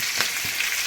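Bird's eye chillies hitting hot oil in a pan for kanthari chicken: a steady bright sizzle and crackle, with a couple of sharper pops near the start.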